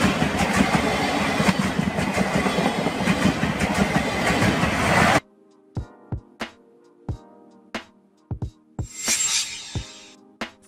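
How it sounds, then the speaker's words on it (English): A steam locomotive train passes with a loud continuous rolling roar, then stops abruptly. Sparse sharp clanks and puffs follow in an irregular rhythm. "Steam locomotive, a type of locomotive powered by steam, historically used for railway transportation"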